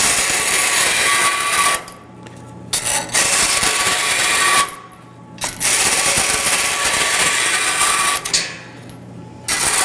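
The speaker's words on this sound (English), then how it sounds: "And I do it the same way in the same bandsaw." A bandsaw cuts .090 by 3/4 inch stock, loud sustained buzzing passes broken by three brief drops to quieter idle between cuts, close by with no talking.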